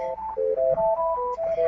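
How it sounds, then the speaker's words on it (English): A telephone rings close by in a short melodic electronic pattern of stepped tones, playing steadily and alone with no talking. "my phone is ringing"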